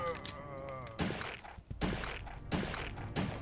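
Gunfire in the video game Resident Evil Survivor: four evenly spaced sharp shots about three-quarters of a second apart, moderately loud, with a faint tonal hum behind.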